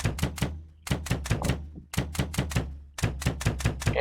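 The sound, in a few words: airsoft Hi-Capa pistol winding clicks, video game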